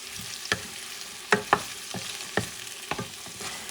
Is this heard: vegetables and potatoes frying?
yes